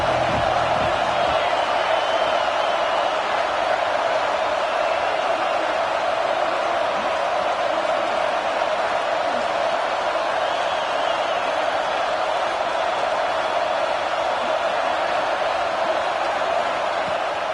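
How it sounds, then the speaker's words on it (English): A dense home crowd at a football game roars continuously and loudly, a steady wall of cheering and shouting that holds without a break from start to finish. "how nice is it to have the home crowd going absolutely bananas?"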